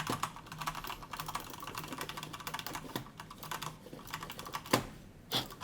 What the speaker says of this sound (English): This is how it sounds like when you're gaming furiously on your keyboard.